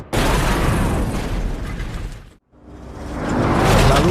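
A gas tank explodes inside a forest cabin in a horror film, giving a sustained loud roaring burst with debris noise. It cuts briefly to near silence, then a second rumbling swell builds.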